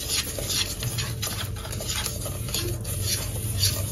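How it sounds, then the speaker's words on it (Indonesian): A spoon stirs Nutrijel chocolate jelly powder with sugar in a dry pot, producing a soft, steady scraping and gritty rubbing close by, quiet and continuous with no voices. "Aduk hingga tercampur supaya tidak bergumpal pada saat diberi cairan."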